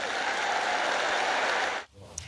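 A crowd of college graduates cheers and applauds in a sustained, dense roar of clapping and shouting that holds steady, then cuts off abruptly near the end, leaving a quieter room.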